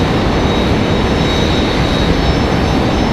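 A Delta Boeing 757 arrives at Raleigh-Durham airport, its jet engines a loud, dense, broadband roar that holds steady throughout with no talking.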